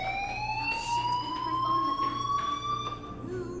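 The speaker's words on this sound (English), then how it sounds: "do you hear that fire alarm?" A fire alarm sounds in Life is Strange, a loud continuous rising electronic wail that sweeps slowly upward over a low hum, alone without talk.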